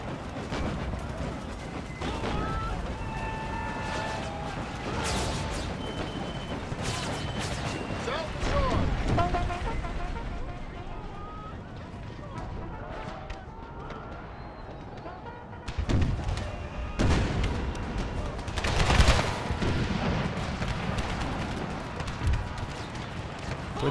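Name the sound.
Whitworth cannon and artillery fire in a Civil War strategy video game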